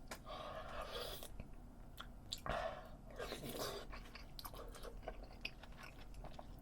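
Close, wet chewing of bean-curd army stew (budae-jjigae made with soybean pulp, served over rice), with soft crunches and bites in an irregular rhythm, heard alone without talk.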